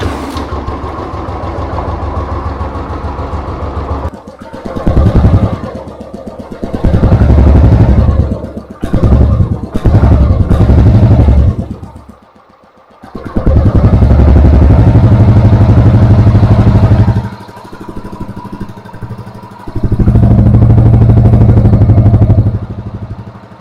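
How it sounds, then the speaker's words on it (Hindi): Royal Enfield Classic 350 on its stock exhaust revs in repeated loud bursts, close by, with a deep thumping engine note that drops back to idle between the throttle blips. "तो कुछ ऐसा सा साउंड करता है स्टॉक एग्जॉस्ट।"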